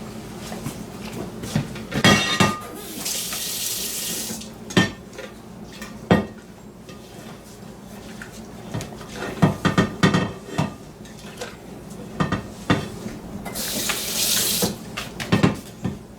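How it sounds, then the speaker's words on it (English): Cooled liquid for brain-tanning buckskin is poured into a 5-gallon bucket. Two loud, close splashing gushes sit between scattered knocks and clanks of handling, with no talking. "Pour it into a 5-gallon bucket."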